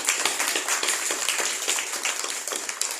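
An audience claps in a quick, steady patter of many hands, crisp and close, sustained evenly for a few seconds without a break.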